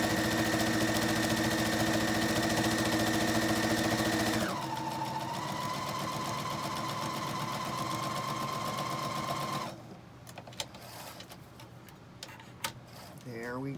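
A sewing machine stitches fabric with a fast, even mechanical whir at first, then slows to a lower, steadier run before stopping. Quiet handling clicks follow, and a voice speaks in the background.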